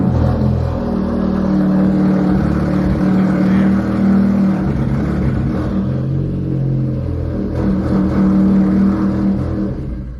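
A Ford Focus ST engine idles with a loud, close rumble, its low drone rising and falling slightly as it runs steadily.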